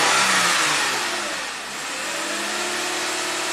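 A 2015 Lexus IS250 V6 engine idling too high at around 2200 RPM, a steady loud whirring drone that dips briefly in the middle and then settles back, with no talking.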